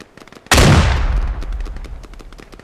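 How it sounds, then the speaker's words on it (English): A frag grenade goes off inside a building in a tactical video game as one sharp, loud blast that rolls off into a long decaying rumble, with faint gunfire clicks around it. "I'm gonna lob a frag in. Get down if you're near."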